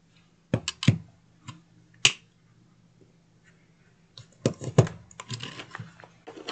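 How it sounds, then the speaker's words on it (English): A few sharp clicks and snaps of a hole punch pressing through paper, close up, with quiet pauses between bursts of handling noise. "we're just going to punch a hole"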